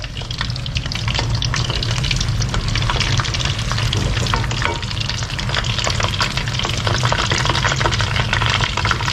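Tofu skin rolls deep-frying in hot oil that is stirred to keep it swirling, a steady loud crackling sizzle with dense bubbling that runs unbroken throughout, with no talking.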